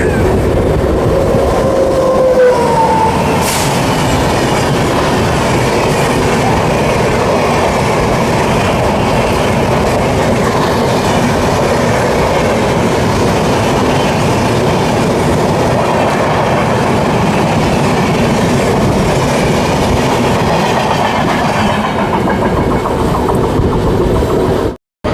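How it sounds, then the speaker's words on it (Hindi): A MEMU local train pulls out of Champa Junction, its steady loud rumble and rhythmic clickety-clack of wheels on rail joints continuing close by throughout, with a brief high squeal near the start. "रिटर्न में मैं चांपा जंक्शन से फ़िलहाल डिपार्ट कर रहा हूँ मेमू लोकल में।"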